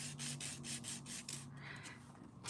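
A 100 grit nail file rubbing across fingernails during a manicure, a series of soft, regular rasping strokes close up, then a brief pause and a final scrape.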